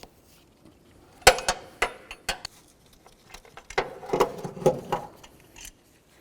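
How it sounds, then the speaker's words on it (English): A 15mm wrench works the center bolt of a serpentine belt tensioner on a 2008-12 Chevy Malibu, giving sharp metallic clinks and ratcheting clicks in irregular bursts, close and fairly distinct against a quiet background. "Use a 15mm wrench to remove this center bolt."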